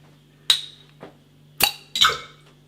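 A beer bottle of Swedish wild ale is opened with a sharp clink, followed by a fainter tap and then two bright clattering hits as the cap flies into a coffee mug in a sink, over a low steady hum.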